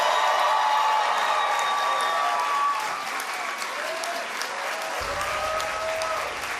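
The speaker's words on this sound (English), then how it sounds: "please join me in giving them a big round of applause." A campaign crowd at an election night event applauds continuously, a dense roar of clapping and cheering held at steady loudness throughout.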